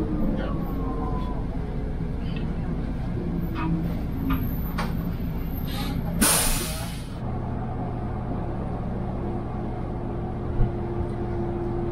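Riding inside a bus on the way to Hörpel: a low, steady road rumble fills the cabin, with faint ticking throughout and one brief loud hissing burst partway through.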